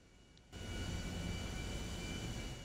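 An airplane engine in the video game Just Cause 3 roars up suddenly into a steady, loud, broadband drone that holds for a couple of seconds, with no talking.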